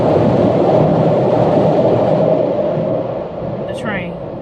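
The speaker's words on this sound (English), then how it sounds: "more than likely it's a train going past" A train rolls past near Lake Street in Chicago, a steady loud rumble that fades slightly toward the end, with a brief squeal near the close.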